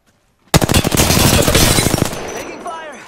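Loud rapid automatic gunfire in Apex Legends, a burst that bursts in after a brief silence and runs for about a second and a half before breaking off into game sounds and a voice.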